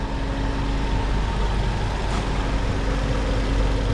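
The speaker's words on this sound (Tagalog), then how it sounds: "Ngayon ko yung andar ng makina." A Hyundai H1 with a G4KG engine, suspected of a blown head gasket, runs at a steady idle. It gives a continuous low mechanical hum with an even drone throughout and no one speaking.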